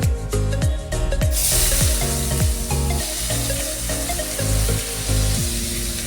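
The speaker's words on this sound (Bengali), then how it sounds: "এরপরে পেঁয়াজটা ভালো করে ভেজে নিচ্ছি।" Chopped onions fry in hot oil after bay leaves, giving a steady broad sizzle beneath louder music with repeated falling tones.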